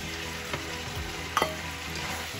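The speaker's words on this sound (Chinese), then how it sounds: "炒一炒" White bitter melon, shrimp and basil stir-fried in a wok, a steady sizzle with a couple of sharp clanks of the utensil against the wok, no talking.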